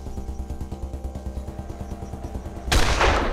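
A single gunshot from the PC game Wasteland 2 cracks out as a loud, sudden blast with a short rumbling tail, following a steady rhythmic game music loop and with no one speaking.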